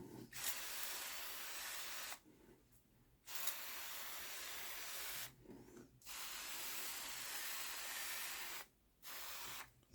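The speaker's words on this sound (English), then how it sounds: "So I'll just be putting in the top, and I'll be spraying that on." A handheld sprayer mists a neem oil and soap solution onto a plant on an allotment, quiet hissing bursts of two to three seconds each, separated by brief pauses, close and soft with no talk.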